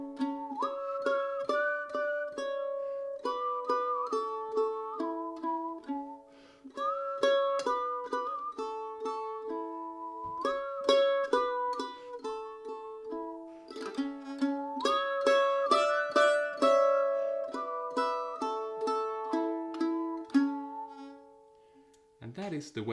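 Mandolin playing a melody with a parallel harmony line on Twinkle Twinkle Little Star, plucked notes in steady rhythm with a few short pauses, close and clear, no voices.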